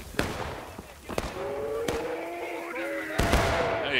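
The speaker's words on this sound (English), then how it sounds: "Oh, that was an arty shot." Artillery shots explode in the War of Rights video game on the Miller's Cornfield battlefield. Several sharp, booming blasts and cracks come at irregular intervals over a low battlefield rumble, with a faint voice.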